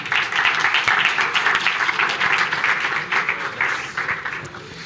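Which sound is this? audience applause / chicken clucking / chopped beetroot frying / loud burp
audience applause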